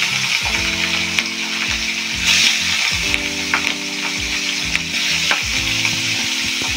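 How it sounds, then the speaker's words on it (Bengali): Pieces of rohu fish, head included, fry in hot oil with a loud, continuous, crackling sizzle, broken by a few clinks from a turning utensil. "এবার আমি মাছটা ভেজে নেব।"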